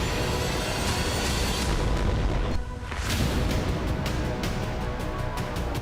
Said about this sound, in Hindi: गाजा से लेकर इजराइल तक भीषण धमाके हो रहे हैं।